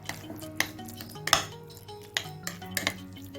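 A spoon mixes chicken shawarma sauce with mayonnaise in a bowl, giving a few sharp metallic clinks and taps against the dish over soft stirring, close by with no talking.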